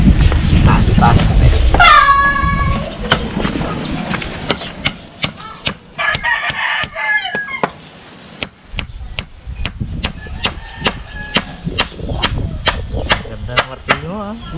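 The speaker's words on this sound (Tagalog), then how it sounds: "Ganda ng martilyo ah." New hammer striking wood while building a hut, sharp separate blows coming in irregular runs, with a rooster crowing and people talking between strikes.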